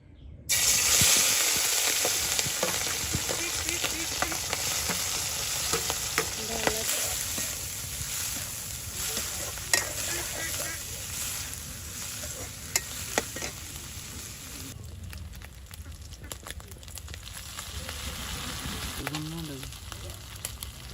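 Hot oil sizzles steadily in a pan while icha shrimp and dhondul sponge gourd fry for a rural fish curry, a close, continuous crackling hiss with occasional stirring scrapes.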